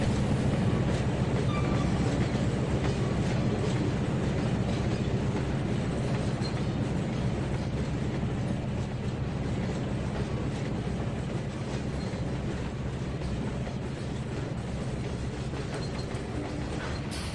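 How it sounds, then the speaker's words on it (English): A train rolls slowly with a low, steady rumble and faint clanking of cars as a switcher locomotive engine strains under load, in the Trainz 2019 simulator; no voices. "I can hear the switcher engine just straining."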